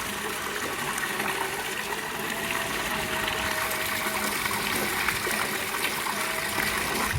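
Water trickles and flows steadily at close range, a continuous broadband wash with no pauses and no speech.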